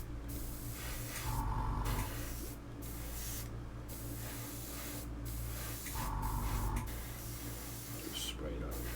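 Bursts of spray paint hiss onto a Belkits Hyundai i20 WRC coupe model kit, two short sprays separated by pauses against a low background hum.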